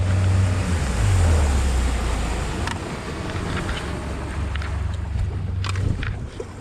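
A boat's outboard motor runs in gear with a steady, loud low drone, the propeller's torque pulling the boat hard to the right, while wind and water rush around it with no talking.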